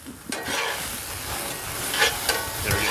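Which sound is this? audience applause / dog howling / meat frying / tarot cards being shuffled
meat frying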